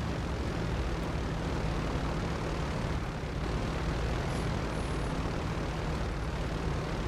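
A fixed-wing airplane engine in the GTA 5 Online video game: a steady, dense engine roar that stays loud and unbroken throughout.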